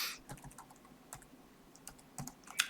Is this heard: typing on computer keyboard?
yes